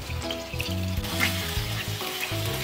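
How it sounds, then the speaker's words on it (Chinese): Homemade egg tofu fries in a pan with a steady close sizzle and crackle, with faint stirring or shifting noises under it and no voices. "我哋两面都煎香佢"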